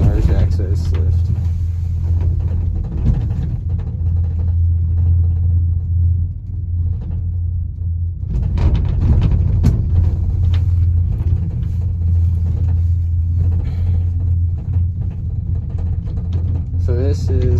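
A Hall gondola, rebuilt by SeaTac in 1983, runs with a steady low mechanical hum and rumble that persists throughout, with louder surges partway through and people talking over it.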